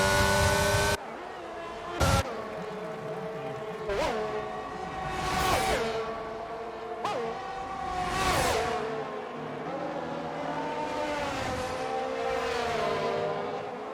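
Formula 1 race cars in the F1 22 racing game, high-pitched engines whining through a chicane, with repeated gear shifts, revs rising and falling, and cars passing close by. A commentator talks over the cars.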